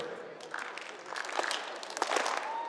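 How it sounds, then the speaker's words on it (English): Audience applause at a European Championships combined climbing final in Moscow, a moderate crowd clapping steadily in the hall with voices mixed in. "Audience starts to clap as we see confirmation of the results."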